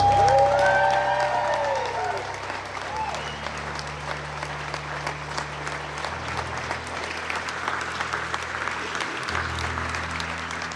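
Audience applause with a few cheers after a documentary screening, dense steady clapping that starts loudest and settles into a sustained wash, with a faint whistle or voice near the start.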